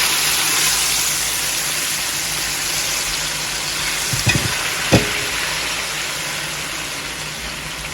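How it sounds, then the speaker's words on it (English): Salted plantain slices fry in hot oil with a steady, close, even sizzle, broken by a couple of soft knocks near the middle. "So let's just fry this plantain"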